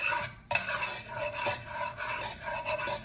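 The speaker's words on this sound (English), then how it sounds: "It's a roux with butter and flour. Stir in the flour" Butter and flour stirred together in a pan for a roux, a steady scraping and clinking of a utensil against metal with a few sharper taps, close and fairly quiet, no talking.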